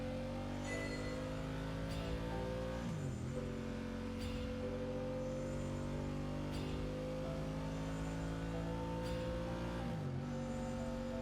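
A motorbike engine revs in the Genshin Impact game world, Sumeru region, a steady mid-distance drone with layered tones that dips and climbs again a few times over the stretch, with no voices over it.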